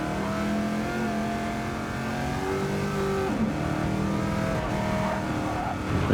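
Race car engine in Gran Turismo 7 at Bathurst, a continuous loud rev with whining tones that climb, dip at a gearshift and climb again, steady and close throughout.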